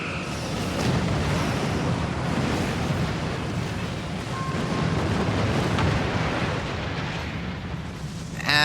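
The starship Bunker Hill blows up in the Star Trek Online game, a loud, sustained rumbling roar of explosion that churns for several seconds before a sharp crack at the end.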